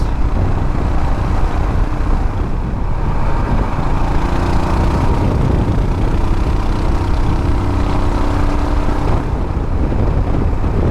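A 2020 Royal Enfield Himalayan motorcycle cruising at about 50 mph near 4,000 rpm, its engine a steady, close, continuous drone mixed with heavy wind rush, with no talking.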